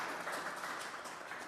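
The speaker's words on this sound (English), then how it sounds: "Y'all applaud yourselves for that." Audience applause fills the room at a talk on spirituality and gender non-conformity, a steady dense patter of clapping that holds evenly throughout, loud and close, with no voices over it.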